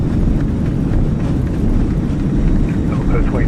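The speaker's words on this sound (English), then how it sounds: "Reversers are out." Thrust reversers roaring on an A300-600R landing in Microsoft Flight Simulator, a steady loud low engine roar with rushing wind filling the whole stretch, close and constant with no talk.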